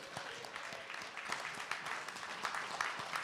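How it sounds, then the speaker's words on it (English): An audience applauds Pastor Charlie Dates with steady, dense clapping that sounds fairly distant and soft, with faint voices mixed in. "Won't you clap for Pastor Charlie Dates?"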